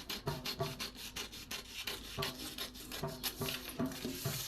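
Scissors cut through a paper pattern for a size 28 katori blouse, giving a quick, regular series of close, crisp snipping and rasping strokes, fairly quiet with no talking over them.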